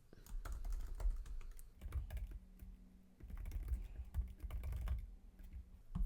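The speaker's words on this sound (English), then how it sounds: "Then I'm going to start typing in the board game names." Fingers type board game names on a computer keyboard, a close, quiet run of rapid key clicks in uneven bursts with brief pauses.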